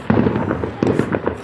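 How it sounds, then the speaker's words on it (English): Fireworks go off at a weekend display near a local club, a rapid string of loud crackling bursts and pops that keeps going through the whole stretch, with no talking over it. "these fireworks look so cool"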